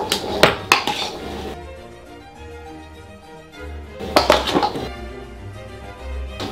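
Tongs toss a crunchy salad in a bowl, making two short bursts of clattering, clinking utensil and bowl sounds with a quieter pause between them.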